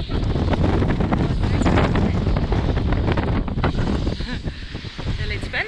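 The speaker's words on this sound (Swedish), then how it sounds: "Så här har det blåst hela natten" Strong wind of around 25 to 30 knots buffets a sailboat lying at anchor in a bay, with a constant rough roar of gusts against the microphone and some water movement, loud and unbroken throughout.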